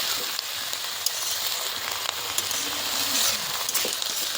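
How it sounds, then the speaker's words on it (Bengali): Mixed cut vegetables fry in hot oil with bay leaf and panch phoron, giving a steady, dense sizzle that holds evenly throughout with faint crackles and no voices. "এবার এগুলো ভাজা ভাজা করে নেবো।"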